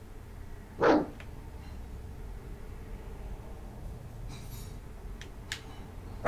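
Dogs in a video game bark faintly in the distance, one short bark burst followed by a few sparse, quieter yips against a low background hum.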